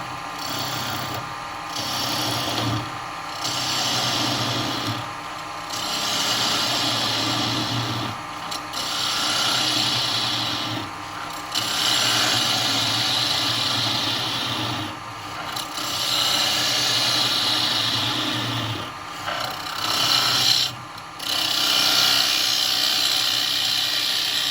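A woodturning lathe tool cuts into a spinning piece of wood with a cracked section, giving a loud, continuous rasping scrape that pulses with brief dips as the tool is repositioned, no talk over it.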